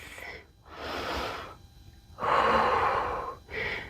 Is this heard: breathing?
yes